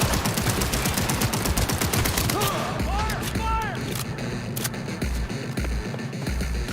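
Gunfire in Cyberpunk 2077: rapid automatic shots, loud and continuous, thinning into scattered single cracks, with a voice talking through it.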